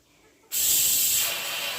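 After a brief quiet moment, a sudden loud rush of steam hisses out as a pressure cooker of sambar is opened, continuing steadily, close and forceful.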